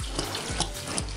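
Tequila being poured into a cookout-style jungle juice mix, a steady splashing liquid stream that runs continuously and close by, with no voices over it.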